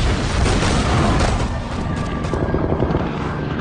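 Bombs and shells burst in a Vietnam War battle as loud overlapping booms over a continuous roar, with a helicopter-like drone throughout and no speech.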